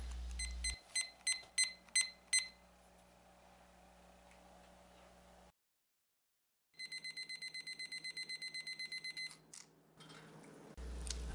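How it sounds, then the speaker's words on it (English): A run of rapid electronic beeps from a probe thermometer's temperature alarm while roasting a duck in cast iron, a pause and near silence, then another longer burst of quick repeated beeps, fairly faint. "all we had to do was wait for the temperature alarm"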